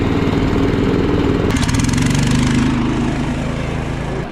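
A snowmobile engine runs loud and steady with its throttle jammed open in snowy blizzard conditions, giving a continuous raspy drone that briefly sharpens with a rattling buzz partway through, with no talking.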